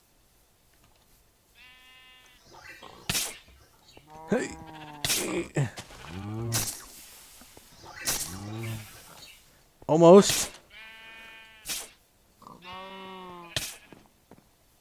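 Repeated bleats from sheep in the Minecraft video game come in several separate calls, fairly loud and close, with a person talking briefly between them.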